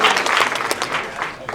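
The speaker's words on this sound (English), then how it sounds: "you should never applaud anybody before they've spoken" An audience applauds steadily at an official invite event for the London Parade, dense clapping filling the room at close range without pause.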